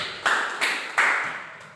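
Children clapping during a classroom lesson about the Prophet Muhammad: three sharp, separate claps ring out in a reverberant room, each one trailing off in an echo.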